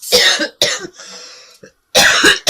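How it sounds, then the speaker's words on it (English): A woman coughs in three harsh, loud bursts, close up, with a faint breathy rasp in the gaps between them. A short pause follows, then a final strong cough. "I'm so sorry about this cough."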